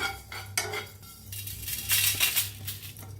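Whole spices such as fennel, coriander and cardamom stirred and dry-roasted in a kadai, giving a few close metallic scrapes and clinks of the spoon against the pan in irregular bursts.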